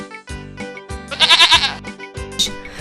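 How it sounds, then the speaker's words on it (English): A pair of goats, one black and one brown, meeting on a bridge, bleat loudly and nearby in a run of wavering, nasal cries, with one harsher, strained call in the middle. "One day, a black goat and a brown goat met each other on the bridge."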